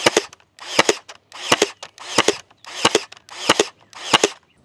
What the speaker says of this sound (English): So there's a little taste of that sweet, sweet 18 gauge Ryobi brad nailer